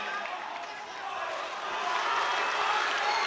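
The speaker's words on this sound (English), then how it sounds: "The crowd buoying both the fighters here." Dense, steady crowd roar at an AFC 9 mixed martial arts bout between Josh Colins and Colin Farricker, building slightly louder toward the end, with no distinct voices standing out.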